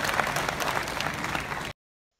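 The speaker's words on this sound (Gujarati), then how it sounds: "લોકો પણ તેને તાળીઓથી વધાવી લેતા" An audience applauds Vinay Shah with a short burst of dense clapping that cuts off abruptly into silence.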